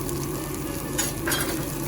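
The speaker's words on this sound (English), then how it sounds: "Now we want to sizzle that up a little bit" Garlic sizzles and crackles in a hot pan, a steady frying hiss with a brief scrape of stirring, no talking.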